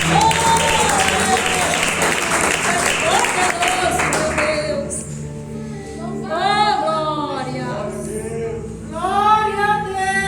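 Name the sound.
congregation clapping in church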